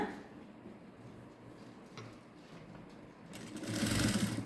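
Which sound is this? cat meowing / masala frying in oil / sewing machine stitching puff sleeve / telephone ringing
sewing machine stitching puff sleeve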